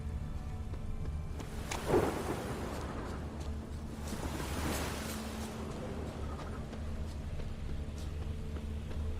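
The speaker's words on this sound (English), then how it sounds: "A storm, damn it." A thunderstorm in The Witcher 3: Wild Hunt, a steady wash of rain and wind with a sharp thunder crack near the start and a rolling rumble after, heard alone without voices.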